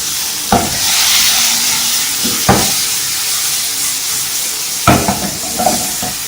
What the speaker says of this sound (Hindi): अगर नहीं है तो आप इस तरह फ्राई पैन में कर दीजिए।